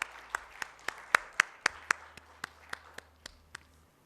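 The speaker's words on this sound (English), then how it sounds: "Can we welcome you on the stage with a loud applause?" Audience at a Mumbai insurance conclave applauding a speaker called to the stage at Hotel Holiday Inn, with a quick burst of loud, rhythmic claps that rises, peaks, then thins out into a few fading individual claps.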